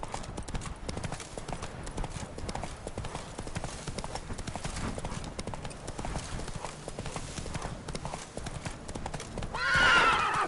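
Hooves pound in a fast, steady galloping rhythm as a horse runs in The Witcher 3 game, with a loud whinny breaking out at the end.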